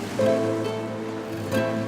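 Sea waves at the shore under a starry night sky, a soft steady wash of surf with gentle swells, beneath a low tonal music bed.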